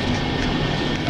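DB class 218 diesel locomotive train slowing as it rolls into a main station, a steady dense rumbling drone heard throughout.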